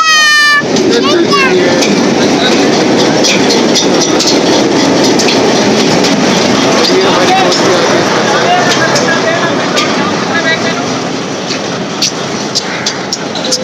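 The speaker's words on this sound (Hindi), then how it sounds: "ये देखिए 8319 हिटाची पावर जो है लेके आ रही है इसको यहाँ पे" A Pakistan Railways train hauled by Hitachi locomotive 8319 arrives at a station, a loud, continuous heavy rumble with high squealing tones at the start and metallic clanks throughout.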